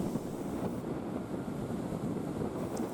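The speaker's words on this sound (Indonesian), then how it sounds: "Ombak setinggi 3 meter menyapu kawasan pesisir ini" Three-metre waves sweeping the coast at Merauke in sudden bad weather, a dense continuous roar of surf and wind, steady and loud with no voices.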